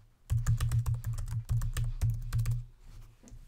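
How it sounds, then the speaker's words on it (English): Quick, crisp keystrokes tap out a name on a computer keyboard, a rapid close run of clicks that slows and thins toward the end, with no talking. "type in your name,"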